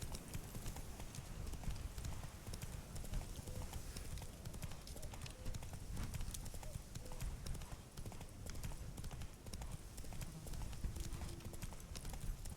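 Hoofbeats of Roach, Geralt's horse in the Witcher 3 video game, a continuous quick clip-clop of galloping hooves with a faint whinny, steady and moderately quiet throughout.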